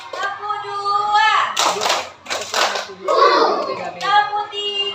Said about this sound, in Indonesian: Coba kita ulang lagi ya, tepuk 1 sampai tepuk 3 ya.